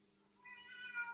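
A cat meows softly, a single rising and falling call that grows slightly louder toward the end over a faint, steady background hum.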